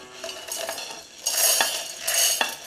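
Roasted amla (Indian gooseberry) pieces tumble into a steel mixer jar, making bright hard rattling clatter in two loud bursts with quieter clinking between, close up and with no talking.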